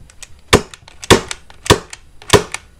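A T.A.C 6 CO2 airsoft pistol without blowback fires four crisp, sharp snaps at a steady pace of about one every half second, close and loud.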